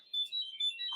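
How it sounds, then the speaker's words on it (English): A mobile phone sounds a bright electronic alert, a run of short repeating chime tones lasting about a second, clear against a quiet room. "Okay, so that's my phone, and that means that food is here."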